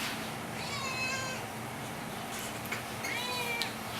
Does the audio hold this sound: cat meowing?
yes